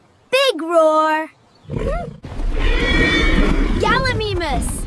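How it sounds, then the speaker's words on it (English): A cartoonish T-Rex roar rings out in a dinosaur cartoon, a loud, rasping, sustained bellow of several seconds that follows a whinny-like cry and a brief voice. "Big roar!"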